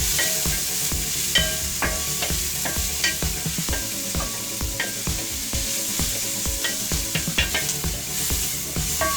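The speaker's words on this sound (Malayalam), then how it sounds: "ഒരു ബ്രൗൺ കളർ വരെ സവോള വഴറ്റി കൊടുക്കുക." Onions sauté until browning in a pan for chicken sausage pulao, a loud, dense sizzle layered with frequent utensil scrapes and stirring knocks throughout, close up with no voices.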